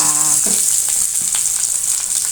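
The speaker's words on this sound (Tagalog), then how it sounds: "Naglagay ulit ako ng kaunting mantika para mailagay ko naman aring bawang sibuyas." Garlic and onion fry in a little oil in a pan with ground meat, giving a steady, close sizzle that holds evenly throughout without any talk.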